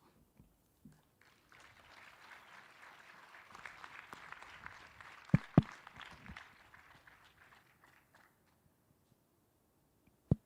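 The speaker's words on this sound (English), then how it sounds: "Let's give Nez another round of applause." Faint applause from a modest audience at a university livestreamed event, a soft spread of clapping rising for several seconds then fading, with a few sharp louder claps and knocks close by.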